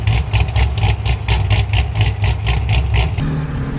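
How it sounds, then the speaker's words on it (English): Lopey, choppy idle of a cammed C6 Corvette V8, loud and close, with rhythmic pulsing bursts about four times a second before settling smoother near the end. "Gotta love a cammed Corvette"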